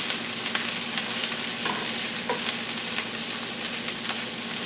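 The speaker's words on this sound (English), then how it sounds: "Now I'm just going to mix this up until it's done" A salt-free mixture seasoned with Mrs. Dash sizzles in a hot pan while it is stirred, with soft scraping strokes over a constant close frying hiss.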